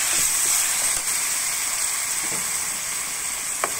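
Sweet and salted chai po (preserved radish) fries in a pan with a steady, close, bright sizzle and hiss, plus a couple of faint stirring taps.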